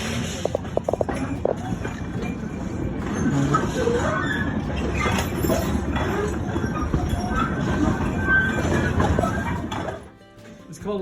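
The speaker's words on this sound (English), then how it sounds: "When I ring the bell means the train's going to be moving." A rumbling, clattering mine tour train at the Queen Mine in Bisbee, Arizona rolls along steadily for about ten seconds, with rhythmic knocking at the start, then briefly quiets near the end.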